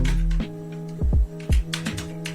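Keystrokes on a computer keyboard while code is typed, a few sharp taps and short bursts over a steady low hum, close and fairly quiet.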